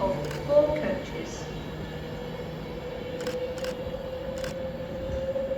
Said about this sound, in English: This train is formed of 4 coaches.